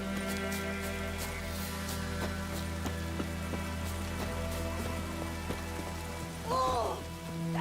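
Soft, steady rain pattering down in The Witcher 3, with faint droplet ticks over a low constant hum and a brief voice near the end.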